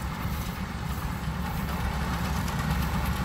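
A Krone KR 125 round baler runs behind a tractor while forming a bale, a steady, loud low engine drone and mechanical rumble with no break and no talk.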